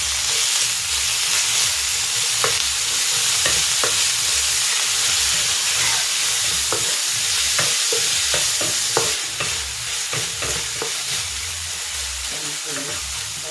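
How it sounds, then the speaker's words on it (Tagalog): Ground pork sautés with onion in a pan, a loud continuous sizzle and hiss with frequent scraping stirs and clinks throughout. "Igigisa ko na dito itong ground pork."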